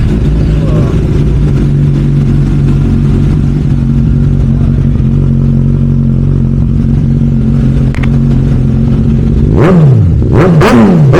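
A stock Suzuki 1000cc inline-four motorcycle, in black and red, runs loud and close with a steady, smooth idle, then is blipped into sharp rising and falling revs near the end.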